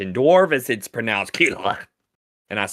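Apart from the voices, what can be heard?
No everyday noises stand out.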